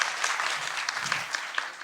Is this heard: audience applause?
yes